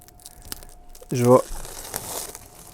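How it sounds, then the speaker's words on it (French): Plastic wrapping being torn and crinkled off spools of 3D printer filament, a short loud burst of crackling with a brief tonal squeak, set among quiet room noise and faint speech. "Première fois que j'essaie leur filament, donc on va déballer les bobines."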